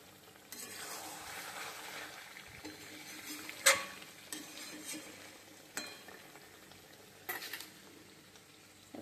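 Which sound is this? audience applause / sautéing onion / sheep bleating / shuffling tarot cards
sautéing onion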